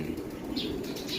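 A racing pigeon flaps its wings in a short, close burst of rapid flutters over a steady background hum.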